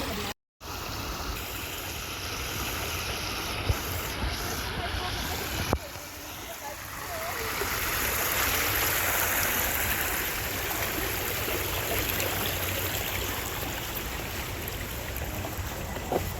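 Water in a stream flows and rushes steadily, a broad continuous wash that swells louder in the second half, with a couple of brief knocks partway through.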